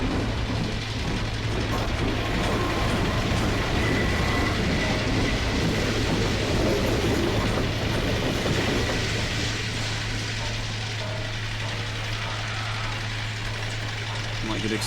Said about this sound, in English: Trolley tram.